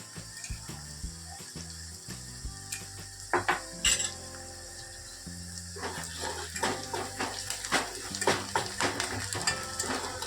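Kathiyawadi-style chopped garlic curry cooks in a pan with turmeric and salt. A soft sizzle runs under frequent metallic clinks and scrapes of a spoon against the pan, and the scraping grows busier toward the end.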